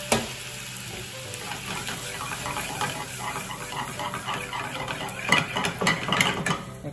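Loud, continuous sizzling of soy sauce poured down the side of a hot pan, crackling and spitting with a few sharper pops near the end.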